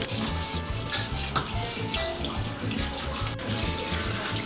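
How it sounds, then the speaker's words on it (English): Steady cold tap water splashing into a sink as lobster tails are rinsed, a continuous close hiss and patter with faint clinks, no voices. "we're gonna rinse them in cold water"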